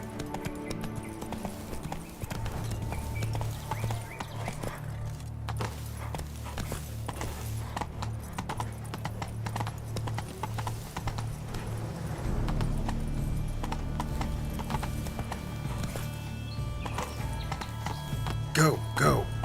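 Roach the horse gallops in The Witcher 3, a steady rhythmic clip-clop of hooves running throughout, with game ambience and occasional voice underneath.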